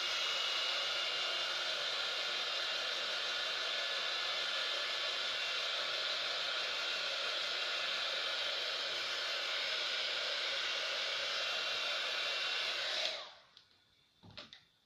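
Hair dryer drying an art journal page, a steady close whooshing blow running continuously for about thirteen seconds before switching off, followed by faint handling noises.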